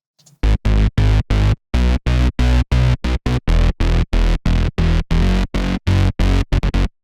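A synth bass built from saw waves with unison and effects plays a choppy, rhythmic chorus pattern for an EDM track, loud and close with sharp gated on-off pulses and no voice.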